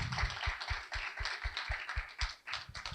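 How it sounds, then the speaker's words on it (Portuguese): Audience applause at a Brazilian literary festival talk, steady rhythmic clapping from a crowd, moderately distant and fairly soft, with no voices over it. "Eu queria pedir, antes de tudo, uma salva de palmas para Cidinha da Silva."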